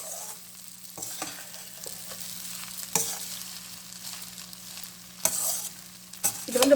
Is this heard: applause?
no